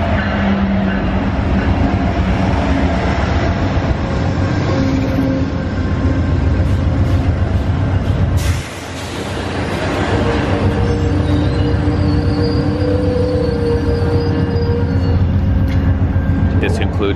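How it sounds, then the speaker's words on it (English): An Amtrak Lake Shore Limited passenger train of about 17 cars rolls steadily past, with a continuous loud rumble and clatter of wheels on rails that lasts throughout and dips briefly midway. "Lakeshore Limited tonight has like 17 cars."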